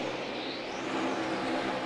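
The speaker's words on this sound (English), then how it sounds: "Fast race car, 4 fresh tires." NASCAR race cars at Dover roar steadily around the track, a continuous loud engine drone with a slight rise in pitch, close and without voices.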